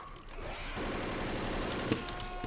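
Rapid gunfire in Left 4 Dead, on the Blood Harvest campaign, runs as a dense fusillade through most of the stretch, steady and loud with a sharper crack near the end.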